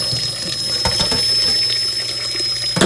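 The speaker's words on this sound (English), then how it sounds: "I'm gonna fill it up with water." Tap water runs in a steady stream into a pot of uncooked rice, a continuous close splashing rush that ends abruptly as the flow is cut off.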